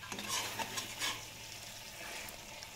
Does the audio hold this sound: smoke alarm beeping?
no